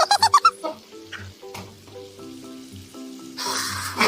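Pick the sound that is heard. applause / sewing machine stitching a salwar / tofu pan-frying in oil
tofu pan-frying in oil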